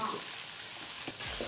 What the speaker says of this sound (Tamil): கோசு பொரியலுக்கு வந்து பச்சை மிளகாயும் வெங்காயமும் வந்து வதக்கிட்டு இருக்கேன்